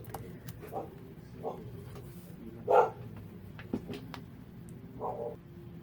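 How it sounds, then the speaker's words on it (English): Dogs bark at a farm home with horses nearby, several short, muffled barks spread across the clip, fairly distant and faint over low background noise. "had to turn it off because the dogs are barking."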